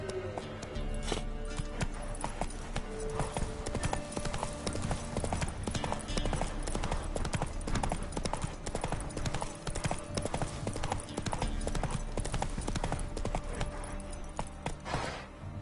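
Roach the horse gallops in The Witcher 3 on PS5, hooves beating in a fast, continuous clip-clop that stays loud and dense throughout, layered over game sound.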